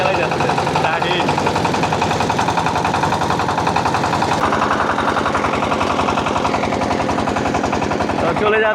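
A motorboat engine chugs loudly and close by with a fast, rapid mechanical pulse that carries on without a break, its tone shifting partway through.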